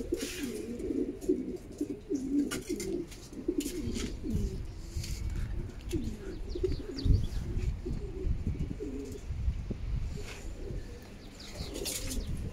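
Racing pigeons return to the loft after a 290 km race and settle in, with repeated low cooing, occasional chirps and brief wing flaps close by.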